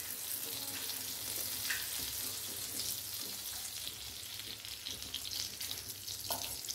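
Butter and oil heating in a kadai give a steady, close, hissing sizzle with faint crackles and an occasional light knock, continuous and fairly even throughout.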